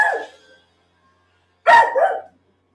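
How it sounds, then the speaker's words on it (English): A dog gives two loud, close barking outbursts, a short one at the start and a longer yelping burst after a pause of silence, sounding strained like screaming. "I love that the dog's just screaming."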